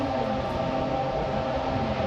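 Racing car engines on the starting grid at Sepang in Assetto Corsa, a steady, loud multi-engine drone with layered tonal harmonics held for two seconds with no talk.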